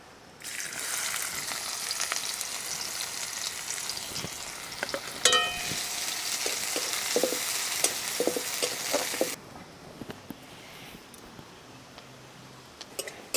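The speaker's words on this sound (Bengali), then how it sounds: "পেঁয়াজ কুচি দিয়ে দেবো।" Chopped onions hit a hot pan and fry with a loud, steady sizzle and a few stirring taps, then settle to a quieter crackle toward the end.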